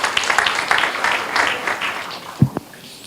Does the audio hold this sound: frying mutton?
no